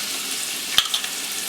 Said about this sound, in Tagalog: So, lagyan na natin yung ating bawang.